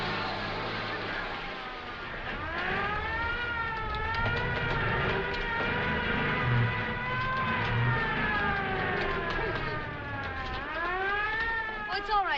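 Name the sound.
air raid siren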